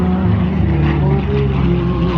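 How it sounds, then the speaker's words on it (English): Allison engine of a P-40 Warhawk fighter at a military airshow, a loud steady droning roar with a throbbing low hum, heard fairly close throughout. "The same sound of that Allison engine on the P-40 Warhawk."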